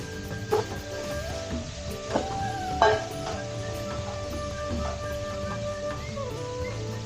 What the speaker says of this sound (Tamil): இப்போ வந்துட்டு நல்லா வதக்கி வச்சுருவோம்